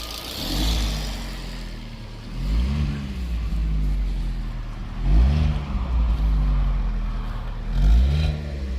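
A yellow 2012 Fiat 500 engine, which smoked on cranking, idles roughly and rises in three distinct revs, close and fairly loud throughout.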